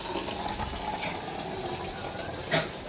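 Water pours from one hand in a steady splashing stream, close by, with a brief louder gush near the end and no talk.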